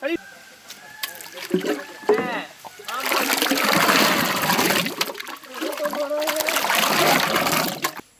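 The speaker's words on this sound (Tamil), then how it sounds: "அப்படியே எல்லாத்தையும் ஊத்தி விடு" Fresh mango juice poured out of a pot, a thick gushing, splashing stream that runs steadily for several seconds after a few brief clanks and voices at the start.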